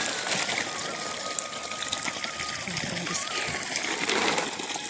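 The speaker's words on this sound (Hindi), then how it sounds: "ये जोड़ दिया हमने अपनी मोटर का नल और अब ऐसे पन्नी के ऊपर रख के इसको" Water from a motor pump tap runs onto a plastic sheet outdoors in a continuous broadband splashing gush that stays steady throughout, with faint voices in the background.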